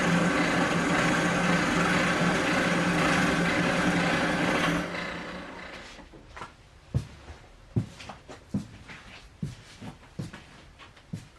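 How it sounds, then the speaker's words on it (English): Drill press boring a hole through a piece of wood held in a vise: a loud, dense whirring grind for several seconds that abruptly drops away, followed by scattered sharp clicks and knocks. "I'm going to now activate the handle to drill through the piece of wood."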